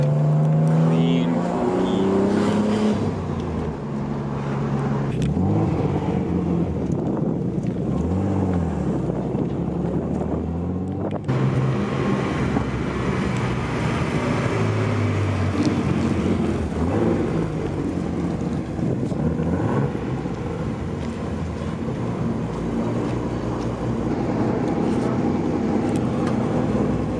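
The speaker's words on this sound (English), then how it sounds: "The Skyline is back on the road finally." A Nissan Skyline R33 with an RB30 engine driving on the road: a steady engine drone heard from inside with some revving, mixed with wind buffeting throughout.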